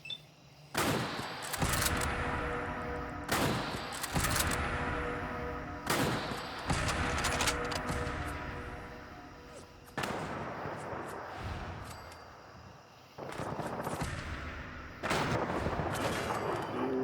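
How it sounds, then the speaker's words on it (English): Heavy anti-material rifle fire in Fallout 4 booms out repeatedly, with about eight loud, sharp shots spaced a couple of seconds apart, each followed by a rolling echo. "that anti-material rifle packs quite the punch"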